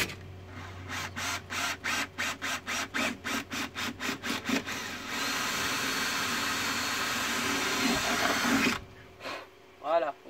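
A drill bores holes for awning mounts on a camper van, first a run of rhythmic rasping strokes, then a steady whining grind before it cuts off, with someone talking over it.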